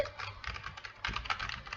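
Fast typing on a computer keyboard during a PC game session, a close, quiet run of rapid key clicks in two short bursts with no voices.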